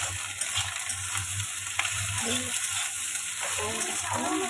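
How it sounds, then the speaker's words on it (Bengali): Egg and potato fry together in a pan with a constant close sizzle. A faint voice murmurs under the hiss toward the end. "এই হচ্ছে ডিম আলু ভাজা"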